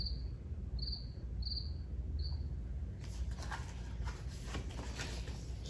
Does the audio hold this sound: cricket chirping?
yes